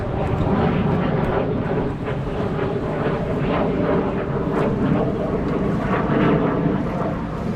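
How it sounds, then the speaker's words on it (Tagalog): A jet fighter flies overhead outdoors, giving a loud, sustained broadband roar that fills the whole stretch at close to even strength, with no talk over it. "May jet fighter dumaan."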